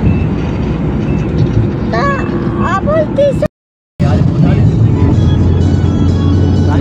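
A loud, steady rumble of a train rolling by close overhead near Nizamuddin station, Delhi, with a brief dropout midway and a few higher tonal squeals over the roar.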